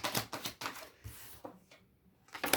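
Tarot cards being shuffled in hand, a series of soft papery riffles and flicks in uneven bursts, fairly quiet and close with no talk.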